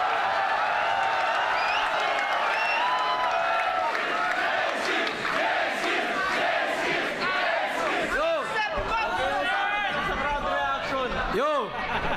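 A crowd at a rap battle between J-Skeelz and Batas shouts and cheers in bursts over a rapping voice, with rising hype and reactions building toward the end.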